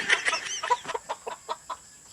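A chicken clucks close by in a quick run of short, evenly spaced clucks that slow toward the end, heard clearly with no talk over it.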